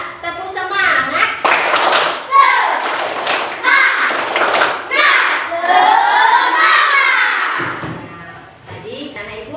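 Schoolchildren in an Indonesian classroom perform a rhythmic clapping chant, loud and close, with claps and thumps mixed into their shouted voices that continue throughout.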